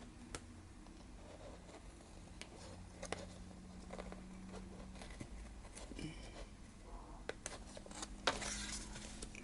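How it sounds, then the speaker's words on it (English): Paper being trimmed for a junk journal folio insert, soft scattered snips and rustles, quiet and close, with no talking. "Let's trim this whole side."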